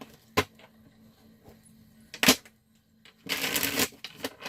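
A deck of tarot cards being shuffled, with short riffles and taps followed by a longer, louder burst of rapid card flutter near the end, close up and with no talk.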